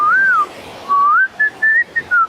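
A person whistles a wavering melodic tune in several short phrases, clear and fairly close, with quiet background and no talking.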